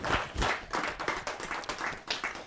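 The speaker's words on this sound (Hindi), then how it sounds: "जरा जोरदार ताली के साथ उनका धन्यवाद" Applause from an audience at a Hindi poetry gathering (kavi sammelan), a steady patter of many hands clapping at close range, running throughout the short burst without pause.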